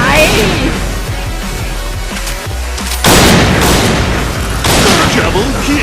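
Sniper rifle fire in a video game, loud booming shots over dense game noise and rumble, with sharp blasts near the middle and end of a busy, noisy mix.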